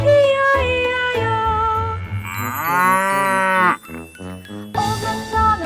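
A cow moos loudly in a nursery-rhyme farm song, one long drawn-out low call rising and falling in pitch over the sung melody and instruments, close and prominent.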